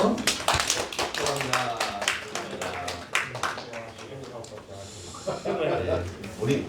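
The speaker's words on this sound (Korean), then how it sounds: "우리 서로를 축복하면서 박수 한번 할까요?" Congregation clapping in a church service, rapid sharp hand claps close by, mixed with people talking and exchanging greetings over the clapping.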